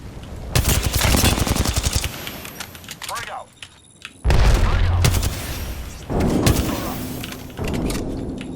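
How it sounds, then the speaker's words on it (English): Rapid gunfire bursts from the video game Apex Legends, loud automatic fire in several stretches with brief gaps between, under a player talking. "I'm taking shots."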